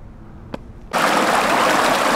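A mountain stream at a trail crossing in a recently burned high-country area near Wolf Creek Pass. A near-quiet start gives way abruptly to loud, steady, close rushing water that continues to the end.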